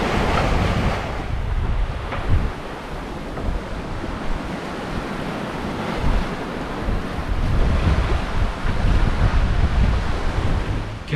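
Strong wind roars and waves surge and crash around a sailboat caught in a squall at sea during an Atlantic crossing, a loud, continuous rush with buffeting gusts across the microphone.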